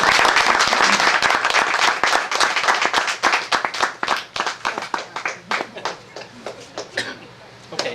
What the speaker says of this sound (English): Can I get a round of applause for Marri this evening?